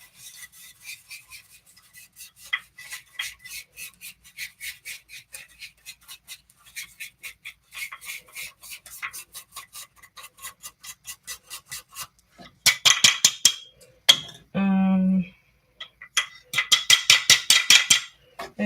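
An electric spice grinder whirs through dried spices in rapid repeated bursts, loud and close, with longer harsher pulses near the end and no talk.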